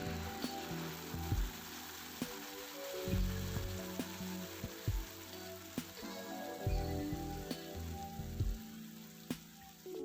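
400 grams of tomato paste hits golden fried garlic in a pan, giving a steady bright sizzling hiss with occasional clunks and scrapes of stirring and no talking.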